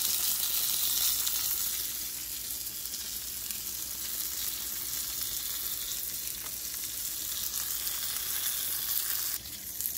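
Onions frying in a pan give a steady, close sizzle and crackle that keeps going for about ten seconds with little change, with a faint stirring scrape near the end.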